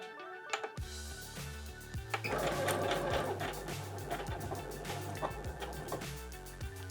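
Computerized sewing machine stitching a seam on a fabric desk organizer, a steady rapid mechanical whir with rhythmic ticking that starts after a brief pause and runs continuously and close, without talk.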